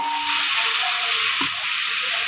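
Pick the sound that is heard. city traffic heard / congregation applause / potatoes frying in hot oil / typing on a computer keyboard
potatoes frying in hot oil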